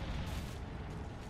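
Thermite grenade in the video game Apex Legends, a dense roaring burst of fiery noise, loud and continuous across the short stretch with no talk.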